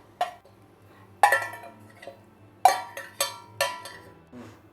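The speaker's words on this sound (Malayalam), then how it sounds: "ഇനി ഒന്ന് ഇളക്കി കൊടുക്കാം." A spoon stirs a breakfast dish of raw rice in a cooking pan on a gas stove after liquid is poured in, giving a handful of separate metallic clinks and scrapes spaced irregularly, close and fairly quiet, with no talking.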